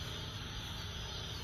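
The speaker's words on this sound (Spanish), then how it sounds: "Parece que son los sapos que están naciendo. Que hacen esa bulla." Steady, dense croaking and trilling chorus of toads in a garden at night, faint and continuous throughout with no pauses, heard alone without any voices.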